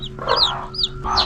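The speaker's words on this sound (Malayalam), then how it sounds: "ഇതെല്ലാം അടയിരിക്കുന്ന അമ്മക്കോഴിയാണ് കേട്ടോ" Close brooding mother hens give a run of soft, throaty clucks and murmurs at a home poultry coop, several calls overlapping briefly with no talk.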